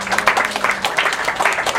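Brief burst of audience applause for people being honored with medals, a dense patter of clapping hands filling the room, with a voice faintly underneath.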